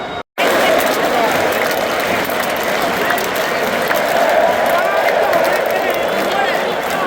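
Flamengo supporters fill a stadium with a dense, steady roar of cheering and chanting, loud and continuous after a brief cut at the start, with crowd voices blending into one wash of sound.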